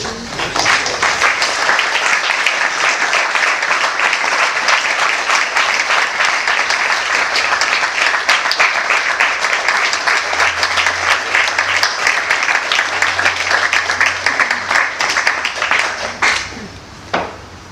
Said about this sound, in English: Another round of applause for Radhanath Maharaj.